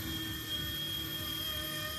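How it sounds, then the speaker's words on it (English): An RC Era BO-105 model helicopter flies, giving a steady, continuous high-pitched electric whine and rotor buzz that holds a constant level throughout, with no talking. "The BO-105 is the most challenging of all the RC Era helicopters to fly"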